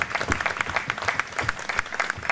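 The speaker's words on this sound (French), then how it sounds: "Martha, j'aimerais vraiment que tout le monde t'applaudisse pour ce que tu as fait" Applause from a crowd at an art exhibition opening: dense, lively clapping with many overlapping hand claps, fairly close and loud, steady for a couple of seconds with no talking over it.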